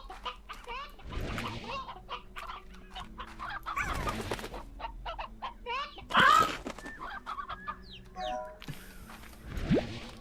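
Chickens cluck and squawk in Slime Rancher, scattered bursts over a soft game soundscape, some calls loud and close, others fainter, without speech.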